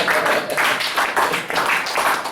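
A church congregation applauds in praise, a steady dense clapping texture with rhythmic swells throughout, moderately loud and close, no talk over it.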